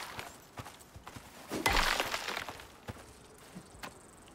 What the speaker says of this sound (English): Heard somebody with a heavy footstep, but it could have been a deer.